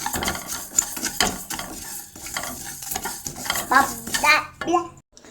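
Fenugreek and mustard seeds crackling and sizzling in hot oil while a utensil scrapes and stirs the pan, busy and close, with a soft voice briefly in the background.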